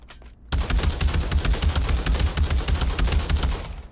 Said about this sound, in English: next up, the Saiga 12 gauge.